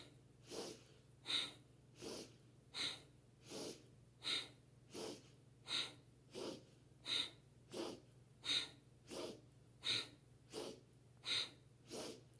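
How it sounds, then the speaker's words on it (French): Forceful rhythmic breathing during a yoga posture, about sixteen sharp, evenly spaced breaths in steady alternation over a low constant hum, with no talking. "Continuez ainsi avec une respiration puissante. Inspirez, expirez puissamment."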